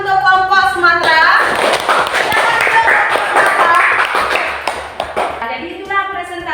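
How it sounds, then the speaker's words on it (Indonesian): Students in a classroom clap for a group after its presentation, a brief burst of applause framed by a teacher's voice before and after. "silakan berikan tepuk tangan untuk kelompok Sumatera"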